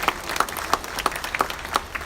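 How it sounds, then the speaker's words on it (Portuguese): Scattered clapping from a small audience at a council meeting on adult education, individual claps distinct and uneven rather than a dense roar. "Uma salva de palmas para vocês também"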